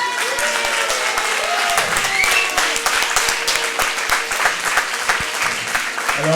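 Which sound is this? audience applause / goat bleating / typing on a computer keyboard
audience applause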